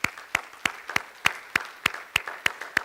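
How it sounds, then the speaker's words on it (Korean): A church congregation claps in a slow, steady unison rhythm, about ten sharp evenly spaced beats ringing out in a reverberant hall. "우리 하나님께 영광의 박수 한번 돌려야 돼요."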